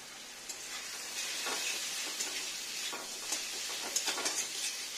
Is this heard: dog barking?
no